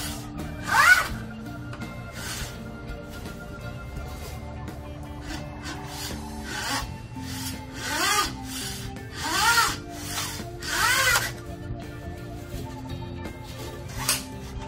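Mohair weatherstrip pushed along an aluminum window sash track, giving a series of soft rubbing, zipper-like scrapes in several bursts over a steady tonal background.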